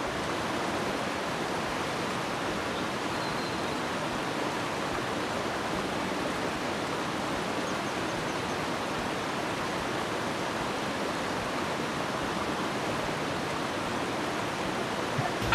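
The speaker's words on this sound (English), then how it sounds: "Is the waterfall too loud?" Steady waterfall roar from The Sims 3 game, a constant broad rushing wash of falling water that stays even and unbroken for the whole stretch, with no voices.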